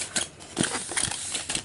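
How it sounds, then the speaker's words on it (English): A blade slicing into foam packaging around a boxed die-cast model truck, a few short close scratchy cuts and crackles in quick succession, fairly soft and brief. "Cutting into the foam instead of the"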